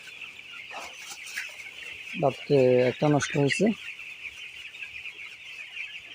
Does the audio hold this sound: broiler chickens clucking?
yes